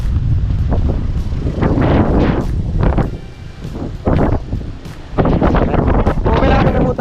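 Wind gusting outdoors in the countryside, loud buffeting noise against the microphone rising and falling in bursts throughout, with faint indistinct voices in places.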